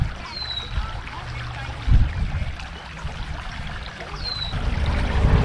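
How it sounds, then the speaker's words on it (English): A small creek winding through a park in West Bend, its water trickling and gurgling steadily close by, with a couple of faint high chirps above the flow. "This little creek just kind of winds through the park."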